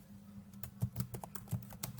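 Faint, quick keystrokes on a computer keyboard, about a dozen uneven clicks in two seconds, come from typing a note into a Google Colab text cell, with no talk.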